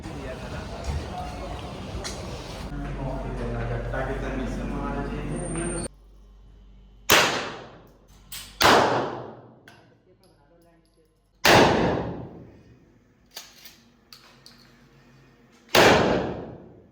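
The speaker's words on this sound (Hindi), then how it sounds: "आपने देखा कैसे ब्रेटा चली है, शॉटगन चला है। गोलियां चला दी उस्ताद, गोलियां।" Talk over a loud rumble, then a series of sharp, booming shotgun and Beretta pistol shots at a shooting range in Thailand, about six, fired at irregular intervals with echoing tails.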